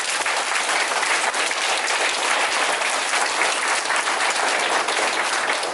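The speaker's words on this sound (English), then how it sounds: "We give another round of applause for our color guard." Loud, sustained applause for a color guard from a large audience at a school Flag Day ceremony, a dense wash of clapping that holds steady throughout.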